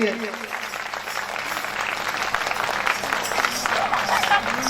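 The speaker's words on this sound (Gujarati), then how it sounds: "જેટલી પણ તાળી વગાડી શકાય એટલાથી વધારે તાળીઓ આપણે વગાડી" A crowd claps at a religious katha gathering, a busy rustle of applause running under someone speaking over it throughout.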